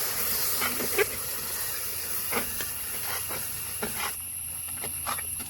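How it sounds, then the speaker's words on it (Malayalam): Jar-rinsing water poured into a hot pan of chickpea curry (kadala curry) sizzles and hisses steadily throughout, with a few brief spattering pops along the way. "ജാറ് കഴുകിയ വെള്ളം കൂടി ഒഴിച്ചു കൊടുക്കാം."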